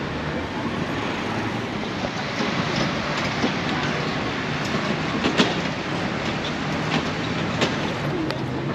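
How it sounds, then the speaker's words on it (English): Tourist train rolling past on a street in Nice, a steady broad rumble and hiss with faint scattered clicks, continuous and fairly loud throughout. "There's their own tourist train here in Nice also."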